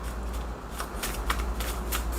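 A tarot deck being shuffled, with crisp riffling bursts of cards repeating in an uneven rhythm, close and steady, no voice.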